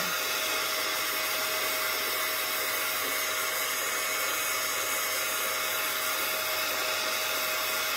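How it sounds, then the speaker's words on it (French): A heat gun blowing hot air onto embossing paste over a stencil gives a steady, loud, unbroken whoosh with a faint tonal whine running through the whole stretch. "Je voudrais que vous voyez l'action du heat gun sur la pâte."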